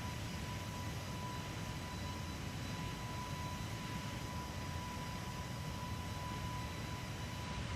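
An Airbus A220 takes off in a flight simulator game, a steady loud broadband jet engine roar holding constant throughout with a faint tonal whine, no voices present.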